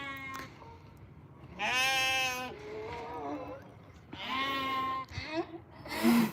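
Loud, wavering bleats of sheep, two long calls and a shorter one near the end, close by, with some quieter voices between them.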